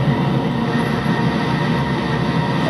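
A locomotive in the video game Train Simulator runs with a loud, continuous rumbling drone of engine and rolling wheels, steady and close with no voices.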